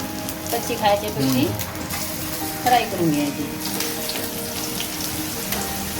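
Alu vadi, colocasia leaf rolls, frying in oil with a steady close sizzle and crackle throughout, while a voice talks briefly over it in the first half.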